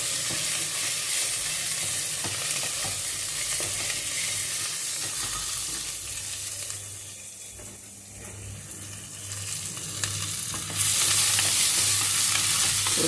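Sliced onions sizzle in a pan with curry leaves for a drumstick masala curry, a continuous hiss that dips midway and then swells louder, with light stirring scrapes.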